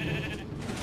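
A sheep bleats in the Funny Rail video game, a short, nasal cry heard close over a dense, noisy game background, with no speech.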